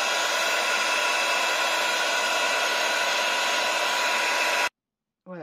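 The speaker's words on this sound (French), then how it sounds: "Je vais faire un peu de bruit" A hair dryer blows steadily and loud on a handmade mixed-media craft box for about four and a half seconds, then cuts off abruptly into silence before a faint voice begins.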